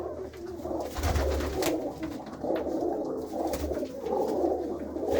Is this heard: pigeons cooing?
yes